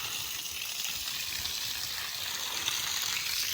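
Running water pours in a steady, even rush while things are washed, a continuous close hiss that stays level throughout with no voices.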